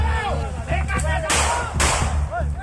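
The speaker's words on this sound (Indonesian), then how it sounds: "polisi harus mengeluarkan tembakan peringatan agar menghentikan tindakan main hakim sendiri oleh warga" Warning gunshots fired by police to stop a crowd of residents attacking a suspect, heard as two sharp, loud bangs over a noisy crowd with shouting voices.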